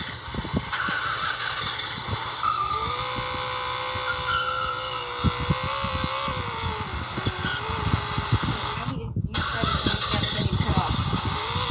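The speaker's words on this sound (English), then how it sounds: "My car engine will not keep starting, so we gotta do this until we get back to the repair station." A muscle car engine cranks and labors to catch, a rough, continuous whirring and sputtering with a rising and falling whine close by, while someone talks over it.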